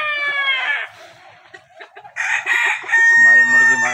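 A Sonali rooster crows loudly with long drawn-out calls on a chicken farm, and chickens cluck in short bursts in between, close by with no other sounds.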